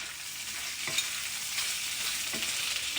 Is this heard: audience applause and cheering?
no